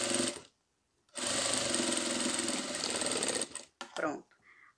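A sewing machine stitching towel fabric for a dog's bathrobe, running in a steady loud buzzing burst for a moment, pausing, then a longer continuous run before stopping with a few clicks.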